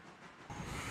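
Train in the video game Railroader arrives, a steady loud rumbling rail roll that swells abruptly halfway through and holds close and heavy to the end, with no voices.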